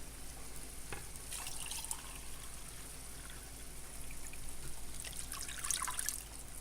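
Water is poured into a pot of tomato sauce, a quiet close trickle and splash that swells in two brief bursts over a low background hiss, with no speech.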